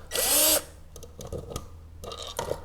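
An electric driver sinks a small screw during equipment assembly: one short, loud whirring burst, then quieter handling clatter and taps nearby.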